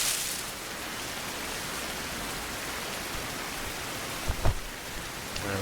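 Steady rain hisses in the survival game Fountain of Youth on Silver Island, a broad constant wash of falling water with a couple of brief louder knocks near the end.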